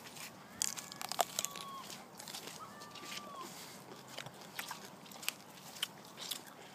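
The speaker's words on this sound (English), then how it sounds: "I had to eat a cucumber." A crunchy cucumber is bitten and chewed in a series of crisp, uneven crunches, moderately close and fairly quiet against a soft background.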